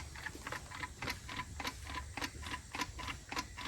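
A slack, worn timing chain in a 401 engine ticks in a fast, steady, even rhythm, light metallic clicks repeating for several seconds with no voices.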